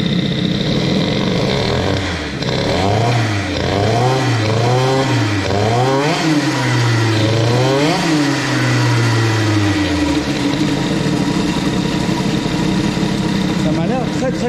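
A Peugeot Fox moped engine fitted with a Boost cylinder head revs up and down repeatedly on a street test, its pitch rising and falling in several quick surges before settling back to a steady idle, loud and close.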